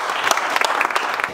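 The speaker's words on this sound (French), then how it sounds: "Applaudissez-le s'il vous plaît" An audience at an evening content-marketing meetup claps to welcome a speaker, with a brief burst of close, crisp, uneven hand claps and a few individual sharp slaps standing out.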